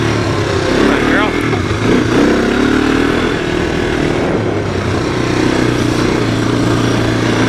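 A 1985 Honda ATC 250SX three-wheeler runs across a dirt race course, its engine droning and shifting pitch up close as a rider talks over it.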